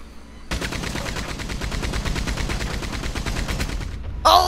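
A mounted turret fires a long, rapid automatic burst in the video game Red Dead Redemption 2 Online. The shots are loud and dense, run for about three and a half seconds, then stop abruptly with a short noise at the end.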